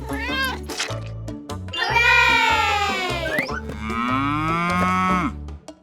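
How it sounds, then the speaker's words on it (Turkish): A cow gives two long, drawn-out moos, loud and close, over a pulsing musical backing. "İnek."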